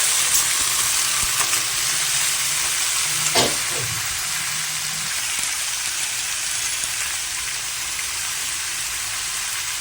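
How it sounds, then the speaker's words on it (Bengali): Potatoes frying in hot oil tempered with black cumin in a kadai, a steady broad sizzle running throughout with a brief sharper burst of spatter near the middle, no voices. "কড়াইয়ে তেলটা ভালো করে গরম হয়ে গেছে, কালো জিরে ফোড়ন দেওয়া হয়েছে। এবার আলুগুলো দিয়ে দেব।"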